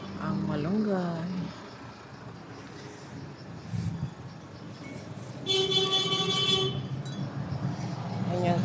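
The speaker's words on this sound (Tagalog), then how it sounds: "Ganyan po pag may nagtitinda ng gas, nagbubusina." A gas vendor's vehicle sounds its horn in a steady, bright tone lasting about a second, preceded by a shorter pitched honk, over a murmur of background noise and distant voices.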